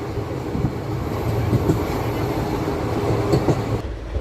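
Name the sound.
train running on rails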